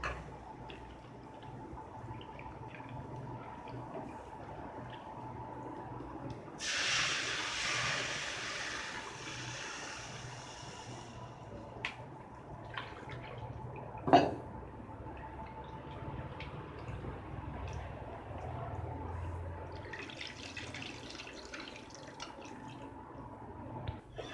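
Dissolved tamarind water splashes into masala frying in oil for a rock fish gravy, a short pouring gush rising mid-way, then a quieter second splash over a faint hiss.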